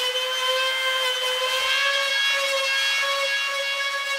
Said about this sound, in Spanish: podemos hacerlo con la fresita que están viendo acá, es de acabado boleado